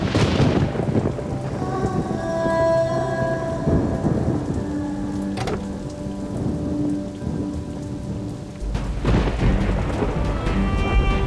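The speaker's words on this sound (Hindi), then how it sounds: "बारिश बहुत तेज हो रही है" Heavy rain pours steadily in a sudden unseasonal storm, a dense constant hiss close by, with a low rumble of thunder swelling near the end.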